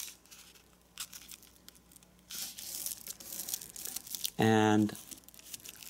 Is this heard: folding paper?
yes